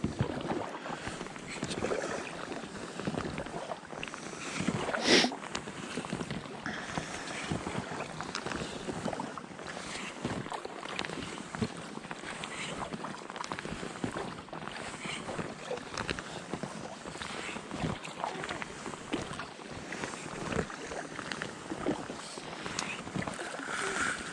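Paddling a canoe across open water toward an island ringed with ice, with soft, irregular paddle splashes and dripping under steady wind noise buffeting the microphone.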